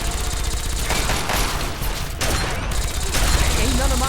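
Rapid bursts of laser rifle fire in the video game Fallout 3, dense and continuous with sharp repeated crackling shots over several seconds, with a voice faintly audible underneath.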